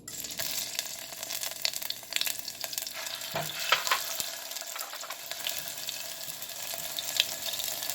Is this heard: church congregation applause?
no